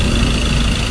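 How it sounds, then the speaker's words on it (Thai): A Ford Ranger 2.2 engine idling with the air conditioning running, giving a steady, loud, low rumble and vibration throughout a very short moment. "เปิดแอร์นะจะมีอาการตัดต่อพักเครื่องยนต์เขย่านิดหน่อยตอนแอร์ทำงานแล้วก็ตัดนะครับ"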